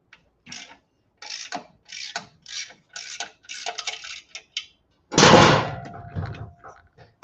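A tool loosening bolts on a Harley-Davidson during a Stage 2 shop job makes a series of short ratcheting clicks in bursts, followed by one louder metallic clunk, nearby and without speech.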